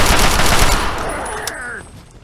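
Rifle gunfire in the Fallout 3 video game: a loud burst of rapid shots that fades out with a ringing tail.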